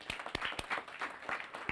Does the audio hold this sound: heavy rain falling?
no